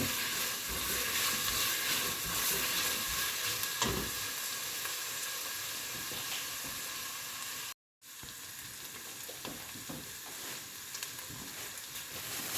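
Onions sautéing in a pan for Kerala-style cooking give a steady, close sizzling hiss with occasional stirring scrapes, continuous apart from a brief silent break midway.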